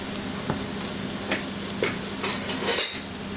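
Vegetables tipped into a pan of golden fried onions for a vegetable goulash, sizzling steadily while a spoon scrapes and stirs in several close, clattering strokes.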